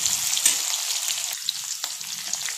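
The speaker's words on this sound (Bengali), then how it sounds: "আলুটা ভাজা হয়ে এসছে।" Potatoes and tomato frying in a pan for a vegetarian cabbage dish, a steady bright sizzle running throughout with a few soft spatula scrapes, close and fairly loud, no talking.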